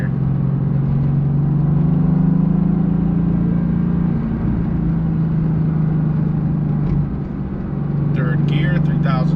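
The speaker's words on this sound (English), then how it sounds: "You can hear the turbos spooling up." Steady low engine drone of a turbocharged car cruising in third gear at about 3,000 rpm on a canyon drive, loud and constant, with a faint whistle-like rise near the end.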